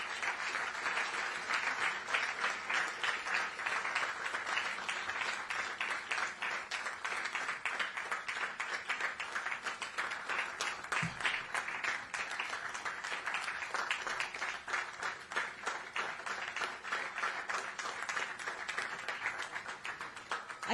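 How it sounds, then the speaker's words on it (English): Audience applause at a book launch during the Western Ghats literature festival, sustained even clapping from a sizable crowd, moderately distant and steady throughout. "Can we have a nice round of applause?"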